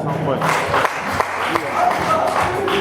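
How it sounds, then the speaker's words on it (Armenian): Guests at a festive celebration with toasts clap in scattered bursts. The claps are partly buried under loud talking from nearby people. "Հələ մի հատ բարձր ծափարեք"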